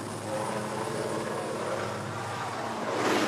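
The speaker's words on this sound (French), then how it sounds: "un hélicoptère emmène les souverains qui ont pris de retard sur l'horaire" A helicopter carrying royal guests arrives near a port in Kinshasa, its steady engine drone and rotor noise holding constant, then growing slightly louder toward the end.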